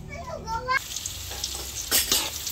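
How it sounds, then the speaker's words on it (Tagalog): Cooking oil heats and sizzles in a wok, preparing spaghetti sauce; a steady frying hiss runs throughout, with a few brief speech-like tones at the start. "Ako po nagpapainit na ng mantika po dito po sa talyasi"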